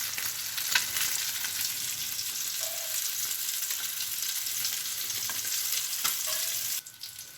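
Fish frying in hot oil, beach-side style fish fry, a steady bright sizzle and crackle running continuously with occasional pops, then cutting off abruptly near the end; no voices.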